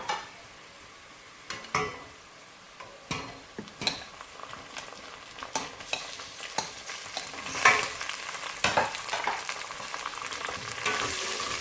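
Garlic and ginger sizzle in hot oil with browned onions in a pot, with a spoon scraping and stirring in irregular strokes against the metal, close and fairly quiet, no talking.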